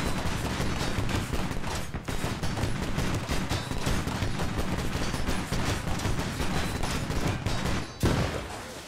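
In a Squad match, a tank fires armor-piercing rounds amid continuous rapid gunfire, a dense, loud barrage with one heavier thump near the end and no talk.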